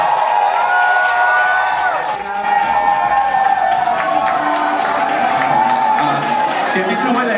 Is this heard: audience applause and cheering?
yes